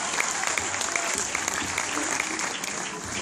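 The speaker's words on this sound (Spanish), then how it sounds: "Fuerte, fuerte el aplauso." A Star Wars fan convention crowd in Argentina claps loudly and steadily, dense applause filling the whole stretch without a break.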